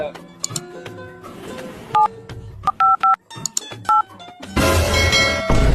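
Touch-tone dialing beeps from a mobile phone keypad during a call, in a Tamil comedy sketch: a quick series of short, sharp tones in uneven bursts, with a voice talking over and between them and a burst of noise at the end.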